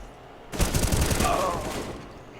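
Silenced M4 rifle fired in a rapid burst in a video game shooter, a dense chatter of suppressed shots lasting about a second and a half, fairly loud and close.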